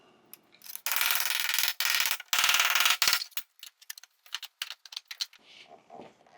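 Sheet metal is bent in a brake, giving loud bursts of scraping and rattling clatter, then a run of sharp, quicker clanks and taps that fade toward the end, with no voices.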